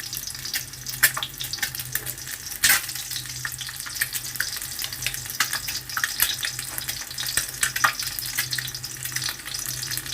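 Whole boiled eggs deep frying in hot oil, giving a steady, dense sizzle and crackle throughout, with a few sharper spits and pops rising above the bubbling.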